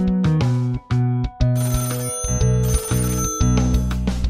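A phone rings as a mum calls home, playing a loud, bright electronic ringtone melody of quick repeated notes, close and clear with no talking.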